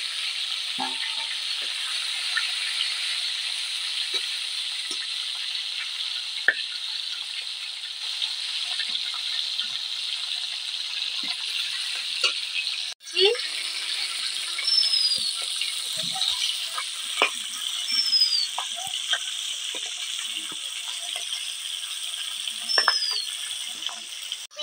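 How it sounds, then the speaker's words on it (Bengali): Magur catfish frying in hot oil, a steady close hiss of sizzling that runs without a break, with a few faint squeaks and small pops scattered over it. "তেলটা গরম হয়ে গিয়েছে, আমি তেলে মাছ দিয়ে দিচ্ছি।"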